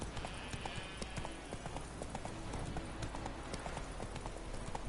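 Horse hooves clip-clop in a steady, brisk rhythm close by, continuous over a busy outdoor background.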